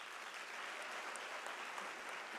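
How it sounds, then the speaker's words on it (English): Audience clapping at a university graduation ceremony in South Africa, a faint, distant, continuous wash of applause with no talk over it. "Can we give an applaud for that?"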